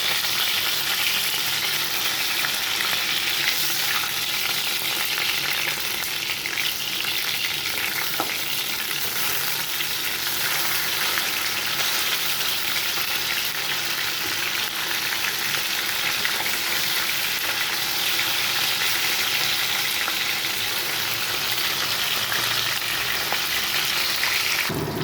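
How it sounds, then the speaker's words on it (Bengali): Soft bele fish frying crisp in a pan, a continuous loud sizzle with faint stirring scrapes, steady and close for the whole stretch with no talking. "মাছটা কড়া করে ভাজতে হবে।"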